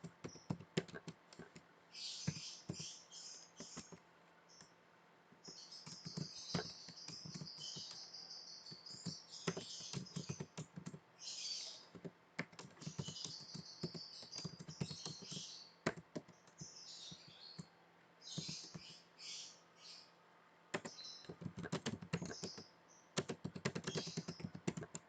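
Someone types on a computer keyboard in a terminal during Python programming work, sending out long irregular bursts of close clacking keystrokes with short pauses between them.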